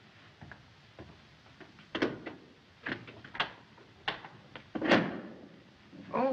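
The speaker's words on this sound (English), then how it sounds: "Max, open the door" A door is opened in a 1937 film scene, heard as a series of close wooden knocks, latch clicks and creaks spread over several seconds in an otherwise quiet room.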